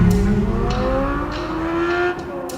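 A 2023 Chevrolet Corvette Z06 engine pulls hard while driving, a loud, steady engine note rising in pitch with brief shifts, close and alone with no talking.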